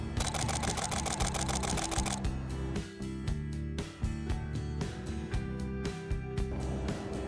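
Canon 5D Mark IV shutter fires in rapid bursts of around seven frames per second, a dense run of sharp clicks, then shorter spaced bursts over a steady background music bed.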